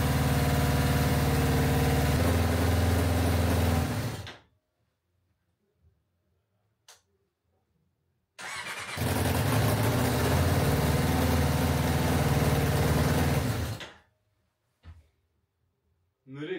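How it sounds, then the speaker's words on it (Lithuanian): A car engine runs steadily at idle in a garage-like space, a low continuous rumble for about four seconds, then silence with a couple of faint knocks, before the engine runs again for several seconds. "Nu, tikėkime, dirbs tas variklis."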